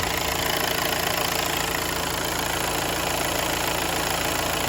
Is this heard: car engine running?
yes